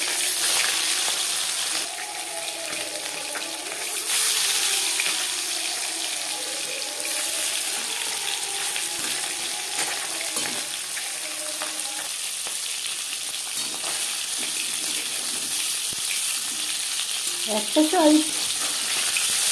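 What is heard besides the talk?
marinated bhola fish frying in refined oil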